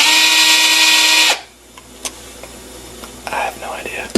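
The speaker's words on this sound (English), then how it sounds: "look, here's a drill" A power drill whines loudly for about a second, then stops, leaving quiet handling clicks and faint rustling.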